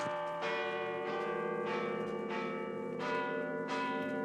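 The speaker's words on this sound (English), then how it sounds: "Listen, the bells. Midnight." Church bells ring in slow succession, each strike blooming into a long, humming resonance, moderately distant and with no voices.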